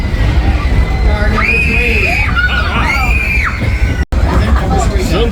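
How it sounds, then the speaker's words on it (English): Amusement park riders yelling and screaming as their ride enters a tunnel, a loud continuous crowd of shrill voices with rising squeals that cut off briefly near the end before the clamor resumes. "It's tradition for everybody to yell and scream when they go into the tunnel."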